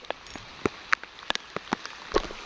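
Rain falls as scattered drops tapping irregularly on a nearby surface, soft and uneven, with no voices during a hunting trip for mangagat.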